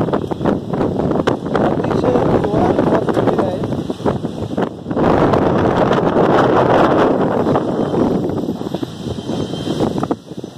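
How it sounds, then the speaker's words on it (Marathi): Strong gusting wind from Cyclone Tauktae batters the Konkan coast near Chiplun, Ratnagiri, on the Arabian Sea, roaring loudly and buffeting the microphone in continuous surging waves for the whole stretch. "तुम्ही माझ्या आजूबाजूला बघू शकता की सोसाट्याचा वारा सुटलेला आहे।"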